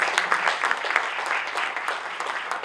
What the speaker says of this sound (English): Let us have a huge round of applause.